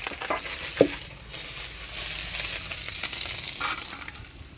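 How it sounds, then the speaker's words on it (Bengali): Pieces of katla fish fry in hot oil, a steady close crackling sizzle with a few sharper pops and the scrape of stirring near the start. "মাছটা ভাজি নিলাম এবার নামিয়ে নিব"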